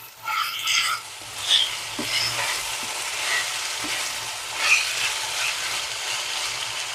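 Salted raw plantain pieces fry in a pan, giving a steady soft sizzle with occasional stirring scrapes and a few louder crackling bursts.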